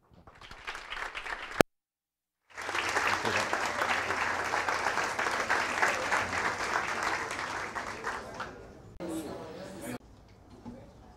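An audience applauds at an evening talk on Spinoza and Winnicott, welcoming the speaker. Dense, steady clapping from many people swells after a brief silence and holds for several seconds, then gives way to someone talking.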